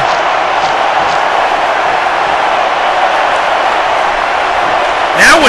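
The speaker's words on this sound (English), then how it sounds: "This crowd is on their feet for Inuyasha!" Dense, steady crowd roar fills a wrestling arena as fans cheer for Inuyasha, a constant wash of voices and applause throughout, with a faint whistle near the end.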